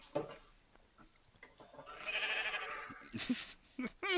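A goat bleats in a video game in a drawn-out, wavering call amid scattered clicks and short game-like effects, with brief bursts of noise around it.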